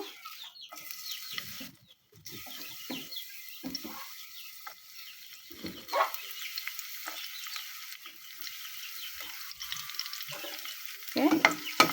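Onion and garlic fry in hot oil in a pan, a steady soft sizzle broken by scraping stirs and a few louder clatters, with a rooster or hens clucking faintly in the background.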